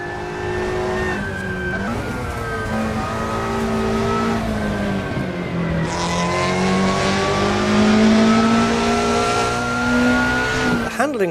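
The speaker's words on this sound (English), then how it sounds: "The engine sound is like, what is it?" In the Assetto Corsa racing game, a car engine revs and climbs steadily in pitch, a loud continuous whine without a break.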